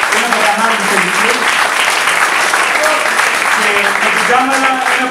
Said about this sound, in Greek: Για να ξεκολλήσει ένα χειροκρότημα στο Randy Greek Gamer